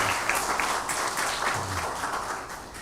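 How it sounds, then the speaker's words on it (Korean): University chapel congregation applauds the choir, a continuous, fairly loud patter of many hands clapping with no pauses. "우리 성가대원들에게 다시 한번 감사의 박수하겠습니다."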